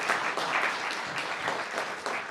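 A school audience claps at a mock trial event, a dense, steady round of applause close by that fills the short moment without pause.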